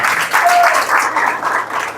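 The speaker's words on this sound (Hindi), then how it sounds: "इस बच्चे के लिए जोरदार हाथों से तालियों का शब्द" Audience applause for a child at a spiritual gathering, a steady broadband wash of clapping at moderate level that continues through the whole moment.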